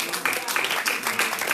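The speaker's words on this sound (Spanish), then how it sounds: "Vamos a dar un aplauso al Señor" A church congregation applauding for the Lord during a service, a dense, steady wash of clapping that fills the whole moment with faint voices mixed in.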